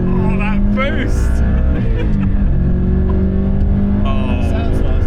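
An Audi RS 6 GT engine pulls hard under acceleration on Isle of Man roads, a loud close roar rising in pitch through gear changes, with a voice speaking over it.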